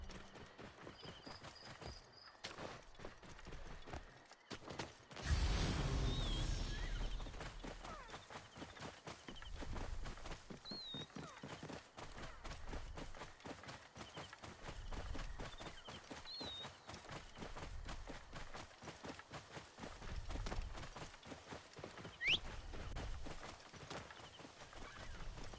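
Rapid, rhythmic hoofbeats clatter continuously at a gallop, fairly quiet, with a brief burst of noise early on and a few faint high tones.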